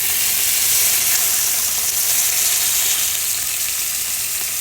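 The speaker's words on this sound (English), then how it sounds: "it's really important that your pan is really good and hot first so that you get that searing" Pot roast meat searing in a very hot pan, a loud, steady, close sizzle with constant crackling hiss throughout.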